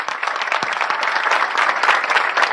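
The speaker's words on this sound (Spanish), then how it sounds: "pido un aplauso para mi amigo, mi compañero de lucha, Oscar Herrera," Lively applause from a crowd at a political gathering in Argentina, with clearly separate claps over a dense steady wash that carries on for a couple of seconds.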